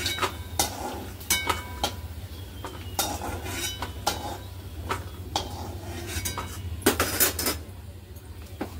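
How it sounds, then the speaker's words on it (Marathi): Fried cashews are scooped out of a metal pan for a cashew chicken masala, with a spoon clinking and scraping against the pan in irregular, close strokes over a low background hum. "काजू मस्त फ्राय झालेत, आपण काढून घेऊया।"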